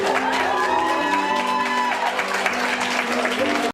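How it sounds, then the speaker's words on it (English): A crowd claps and cheers with whoops and shouts at a soldier's homecoming, loud and sustained for nearly four seconds before cutting off abruptly. "Let's get a round of applause, please."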